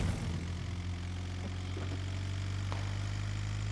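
A van's engine idles steadily in PUBG, a loud low rumbling drone that holds throughout, with a few faint clicks and knocks over it and no talking.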